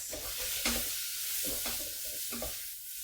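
Ground cumin, cumin seeds and coriander stirred in a hot pan give a soft sizzle broken by three or four rhythmic scraping strokes of a utensil, close up and fairly quiet with no talk.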